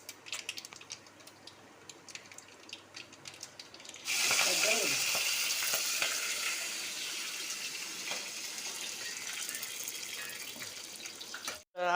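Tempering spices for a red amaranth curry hit hot oil. After a few quiet clicks and light clatter, a loud, bright sizzle bursts in and then continues steadily, fading slightly toward the end.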